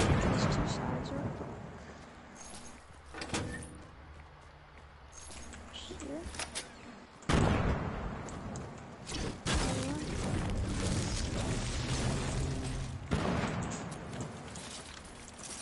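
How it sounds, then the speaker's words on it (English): Explosions in the video game Fortnite rumble and boom repeatedly, with sharp blasts and a dense continuous roar, under players talking over game chat. "I just hear explosions."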